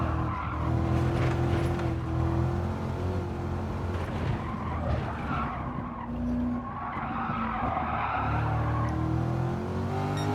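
An AMG GT and a Corvette C7 on a track squeal their tyres scrabbling for grip, a long loud continuous skid with engine revving underneath, sounding close and sustained throughout.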